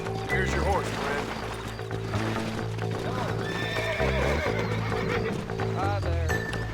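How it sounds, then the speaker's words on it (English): Horse in the Red Dead Redemption video game whinnying and clip-clopping its hooves, heard close and loud over game music, with a voice speaking over it. "Here's your horse, friend."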